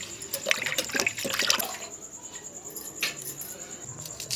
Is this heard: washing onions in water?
yes